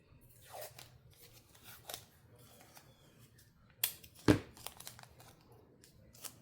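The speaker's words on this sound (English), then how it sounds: "I'm going to pull out some of my painter's tape." A strip of painter's tape is peeled off the roll and torn, a brief close crackling rip standing out from a quiet background of faint handling noises.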